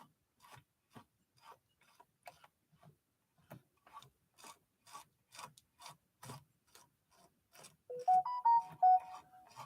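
A Japanese post-WWII sewing machine is turned slowly by hand, producing a steady series of soft mechanical clicks and rubbing ticks, close and quiet, ending with a brief louder tonal chime.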